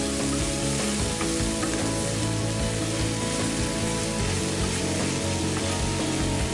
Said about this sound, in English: Mix all the ingredients, stir fry all the ingredients well.